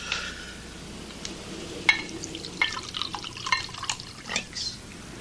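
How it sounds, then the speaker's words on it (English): Alcoholic drink poured into a glass, with a few scattered drips, clinks and splashes against a quiet room, close and fairly soft. "Pour me one, then."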